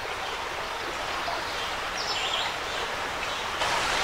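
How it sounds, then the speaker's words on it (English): A creek flows beneath a weathered red covered bridge in Pennsylvania, giving a steady, broad rush of water that holds even and continuous throughout, with no voices over it. "beautiful creek down here."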